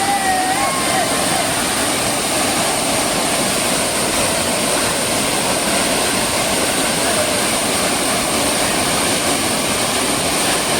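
Savdav waterfall near Kankavli pours with a loud, dense, constant roar of falling water that fills the whole scene and never lets up.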